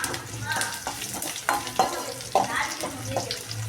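Whole spices tempering in hot oil for mochai (field bean) kuzhambu in a home kitchen: a steady close sizzle and crackle with repeated scraping taps of a spoon stirring the pan, no talking.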